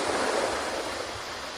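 Ocean waves washing steadily onto a foreshore, a continuous broadband wash with gentle surges, moderately near and alone without voices.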